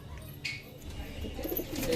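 Chini Kaldum pigeons coo softly in a loft, a few short low calls close by with faint background noise.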